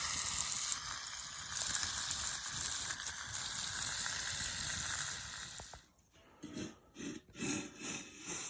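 Bacon and eggs sizzle in a pan over a campfire outdoors, a steady loud crackling fry for several seconds before it drops away into quieter, intermittent sizzling.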